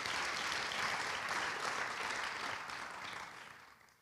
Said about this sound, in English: Can you just clap our hands for Mukhumutsi?